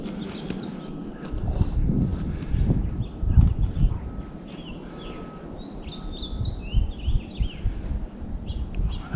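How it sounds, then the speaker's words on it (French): Birds chirp and twitter in cedar and broadleaf woods during a hike, small high calls scattered through the clip over heavier near footsteps and rustling on the trail. "On entend les oiseaux qui piaillent."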